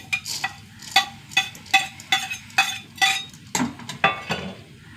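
Whole coriander seeds and raw rice dry-roast in a pan for pulinkari, stirred with a spoon in a steady rhythm of about ten scraping metallic clinks, close and fairly quiet.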